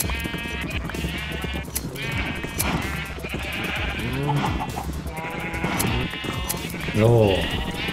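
Sheep in Minecraft bleat repeatedly in short wavering calls, some louder and closer than others, mixed with someone talking over them and background game sounds.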